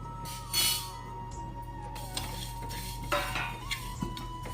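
Whole spices, including black cardamom, frying in a pan for a Rayalaseema-style spicy chicken curry: soft sizzle under a steady background hum, with metal spoon stirs and scrapes on the pan, close and fairly quiet.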